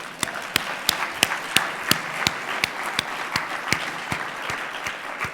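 A conference audience claps together at a keynote session, a steady wash of applause dotted with sharp, evenly spaced individual claps standing out close by.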